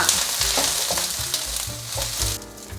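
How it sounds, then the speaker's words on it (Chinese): Eggplant stir-fried in olive oil with ginger slices sizzles loudly and steadily in a hot wok, with repeated scraping and tossing strokes from a spatula close by, no voices. "现在放入茄子，快速翻炒。"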